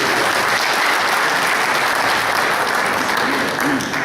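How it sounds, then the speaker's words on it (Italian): Audience applause at a Sardinian poetry event welcomes an ethnomusicologist to the stage, a dense, steady clapping that stays loud and even throughout. "Lo accogliamo con un applauso a lui."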